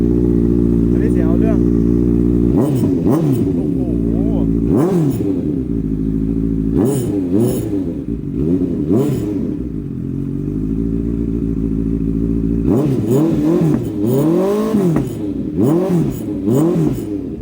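A big bike motorcycle engine idles with a low rumble, then is revved several times in sharp bursts, loud and close, the revs growing quicker near the end.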